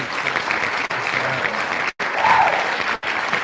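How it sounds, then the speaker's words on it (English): Steady applause from a crowd, clapping continuously with a couple of brief cutouts. "Oh, round of applause, man."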